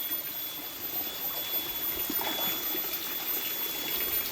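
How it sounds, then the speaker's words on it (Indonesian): A small stream of water pouring into an outdoor fish pond, giving a continuous soft splashing trickle at an even level throughout, with no speech. "ini untuk kocoran airnya kecil ya"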